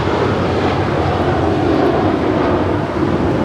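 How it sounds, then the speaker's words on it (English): American Airlines Airbus A321 jet departing LAX for Dallas Fort Worth, a continuous loud engine roar with a dense, even rumble that barely varies across the few seconds. "Here's another departure to Dallas Fort Worth on an A321 with American"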